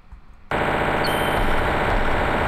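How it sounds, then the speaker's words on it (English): Bullets firing in a video game, a sudden loud burst of rapid, continuous automatic fire that begins abruptly after a brief quiet moment and keeps going. "Those bullets are getting bigger."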